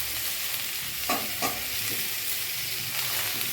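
Food frying in a pan with tomato and ginger paste being stirred, a steady close sizzle with a couple of brief scraping stirs and no talking.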